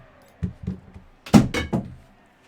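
A phone falls with a few light knocks, then a louder thud and a rattle nearby, all over in about a second.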